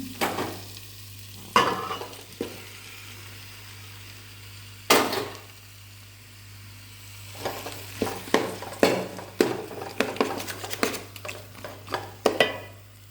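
Chicken frying in a pan, a low sizzle broken by sharp clacks and scrapes of a utensil, the stirring growing busier and more rhythmic toward the end.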